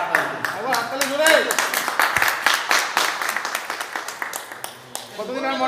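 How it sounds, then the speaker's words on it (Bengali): A group gives a round of loud applause, rapid clapping bursts continuing for several seconds with voices talking over and around it. "একবার হাততালি জোরে।"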